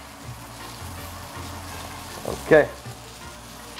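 Peppers and onion sizzle on a hot grill as a steady low frying hiss, joined by a brief clattering bump of turning or handling; a single short spoken word sits over it.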